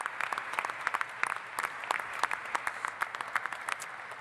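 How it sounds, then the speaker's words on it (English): Applause from an audience at a Canadian government funding announcement for a spaceport, honouring astronaut Jeremy; crisp scattered claps from a modest crowd, fairly quiet and steady, with no voices over it. "So let's give him a round of applause"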